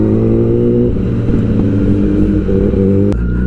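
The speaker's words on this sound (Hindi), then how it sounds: "वो देखो शहबाज भी बाइक निकाल रहा है" A motorbike's engine rumbles and revs steadily close by as it is taken out, a continuous loud low drone with a brief sharp click near the end.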